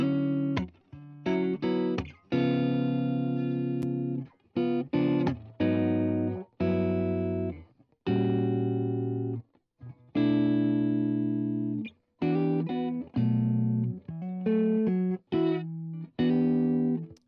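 Clean electric guitar through a Tone Master Pro, picked up by an SM57 mic, plays a series of chords and single notes, each ringing briefly before short pauses, clear and close.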